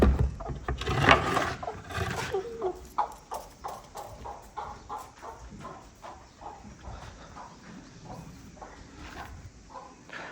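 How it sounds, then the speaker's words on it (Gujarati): Roosters and chickens let loose on a farm where a Marwari stallion is kept, giving a scatter of short clucks and squawks at close to middle distance, loudest early and then settling into softer intermittent calls. "આપણા કુકડા પણ આપણે છૂટા કરી દઈએ"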